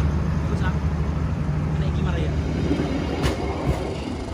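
A Kuto Jaya Selatan passenger train at Gandrung Mangun station in Indonesia, a steady loud rumble of rolling railcars with faint clatter and squeal, continuous throughout, with people talking nearby.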